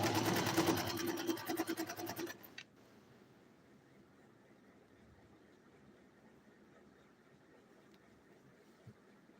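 A sewing machine stitching together the hem of a green ball gown runs in a loud, rapid burst for about two seconds, then stops abruptly, leaving only faint room hiss.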